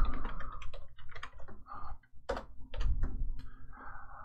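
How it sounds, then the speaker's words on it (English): Typing on a computer keyboard while entering a domain name during Windows Server 2016 setup: irregular clusters of close, crisp key clicks with short pauses between bursts, no voices. "And then I'm going to type in my domain name."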